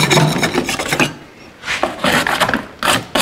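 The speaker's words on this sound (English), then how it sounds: "we're just gonna get all this old mastic scraped off here" Old flaky mastic being scraped off an RV refrigerator cooling unit: loud, close rasping strokes in bursts with short pauses between passes, no voices.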